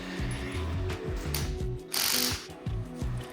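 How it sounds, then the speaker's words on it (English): Ratchet clicking in quick, repeated bursts while lightly tightening a strut top nut during spring compressor removal on a Toyota Prado KZJ90/Hilux Surf lift kit install, close and clear with no talk. "I'm just lightly tightening the top nut, and now I'm removing my spring compressors."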